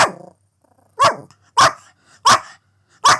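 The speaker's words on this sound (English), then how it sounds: "That is Ruby, who's decided to bark at somebody walking past the house." A Pomeranian barks four times in sharp, loud bursts at a steady rhythm close by inside a house, after a brief lower growly sound at the start.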